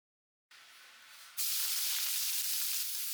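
Coconut oil hissing and sizzling in a clay pot for a fish curry, a steady broadband hiss starting abruptly and jumping louder partway through, close and continuous with no talk.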